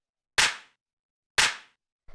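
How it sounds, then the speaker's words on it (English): A roomy house-music clap sample strikes twice a second apart, then a third hit starts, each a bright, full snap with a short spacious decay and nothing else playing. "and then also the sort of more roomy clap"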